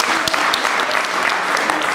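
A church congregation bursts into loud, sustained applause, a dense wash of clapping with sharper individual claps standing out and faint voices underneath.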